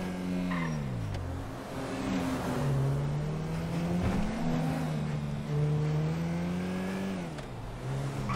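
A car engine in GTA 5 revs and accelerates steadily, its pitch rising and falling through gear changes, loud and close throughout with no talking.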